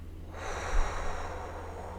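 A deep breath exhaled slowly during a spiritual breathing practice, one close, airy rush of breath that swells and fades over about two seconds.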